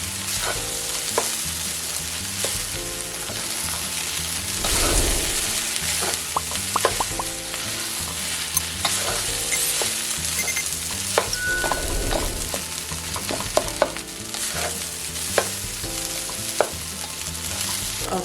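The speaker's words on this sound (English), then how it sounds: "Now I'm going to give this a quick stir." Fried rice seasoned with a little ground pepper, takeout style, sizzles steadily in a hot pan while a utensil stirs and scrapes through it in repeated strokes, close and continuous with no talking.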